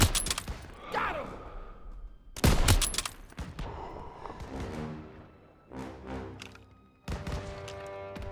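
Gunfire in the World War II shooter Call of Duty: WWII crackles in loud, close bursts of rifle and machine-gun shots, with sharp volleys separated by brief lulls.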